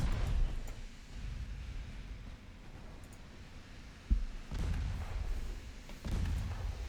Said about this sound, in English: It feels like they're shooting at a much larger distance right now.